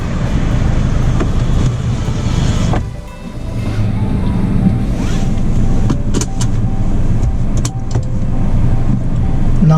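A Suzuki Swift being driven on a road, with a steady engine hum and road roar throughout, a brief dip near three seconds and faint clicks and rattles from inside the cabin.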